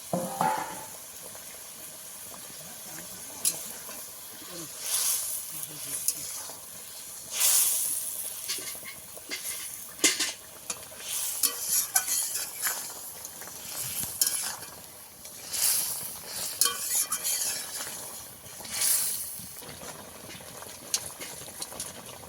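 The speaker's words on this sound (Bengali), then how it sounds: "ভেজে রাখা মাছ আর লতি সব একসঙ্গে দিয়ে দিয়েছি" Fried bhetki fish pieces and taro stolons are stirred together in a pan of simmering curry, giving scattered scraping and sizzling bursts over a steady bubbling hiss, with no talk.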